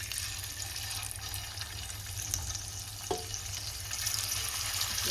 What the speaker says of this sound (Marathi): लगेच मी तवा तापलेला आहे, लगेच मी खणक्या टाकायला घेते.